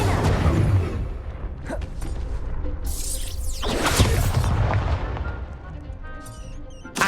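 Fire spells cast in Hogwarts Legacy crackle and whoosh amid combat, with booming impacts, sharp bursts and rushing flame swells over several seconds, plus spoken voices and game sounds around them.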